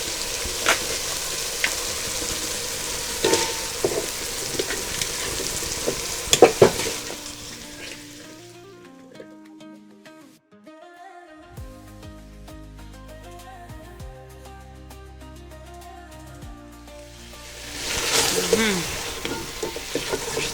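Potatoes hit a hot pan with tomatoes and onion and sizzle loudly while being stirred; the frying dies down into a quiet stretch with soft music, then the sizzling and stirring swell up again.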